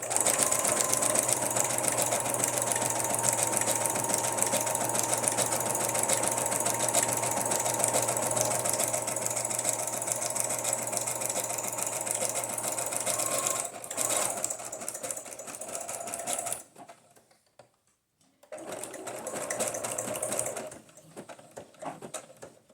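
A sewing machine stitches through paper pages for a junk journal, running steadily and fairly loud for most of the stretch, briefly stopping and restarting as the page is turned at corners.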